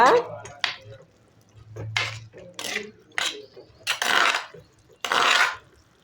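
A spoon scrapes and clinks against a cooking pot while stirring tamarind water for an eggplant pachadi, with several bursts of metallic stirring close up and a voice speaking between them.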